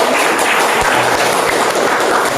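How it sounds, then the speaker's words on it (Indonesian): Applause for the first group of students in a classroom presentation session, a dense, steady clatter of many hands clapping that fills the whole moment at full strength. "Beri tepuk tangan untuk kelompok 1."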